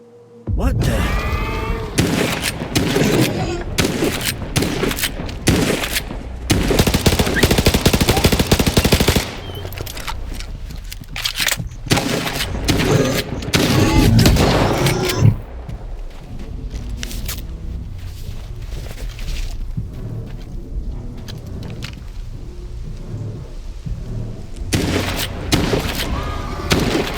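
Heavy gunfire in the video game Stalker 2 during a creature hunt in a cave, with loud bursts, rapid volleys and booms spread across the stretch, interleaved with quieter pauses and voices.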